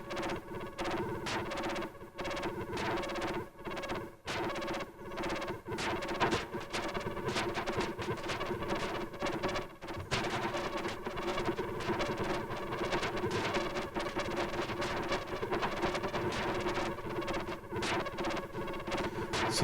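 A dense, continuous synthesizer texture through Noise Engineering Roucha Legio filter and Viol Ruina distortion Eurorack modules, washed in reverb and echoing delay, thick and distorted with a throbbing, layered sustain throughout.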